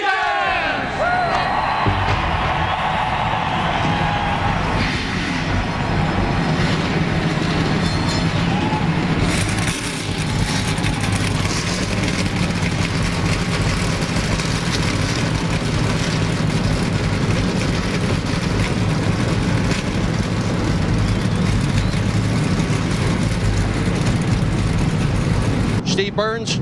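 Several NASCAR stock car engines fire up at once at the 2006 Save Mart 350 at Infineon Raceway and settle into a loud, throaty idle, with a crowd murmuring faintly behind.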